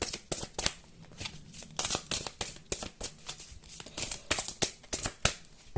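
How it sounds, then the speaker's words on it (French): Large tarot cards being shuffled by hand, a rapid series of crisp papery riffles and slaps repeating in quick bursts, close up and without any voice. "les cartes sont grandes, donc c'est pas forcément évident à battre"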